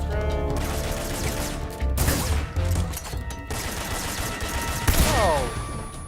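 Stun grenade detonating in the video game Metal Gear Solid 3, with a sharp crashing burst near two seconds and another near five, set amid dense game sounds and a faint voice.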